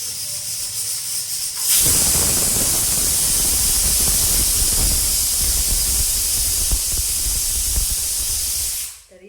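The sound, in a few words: pressure cooker whistling while boiling eggs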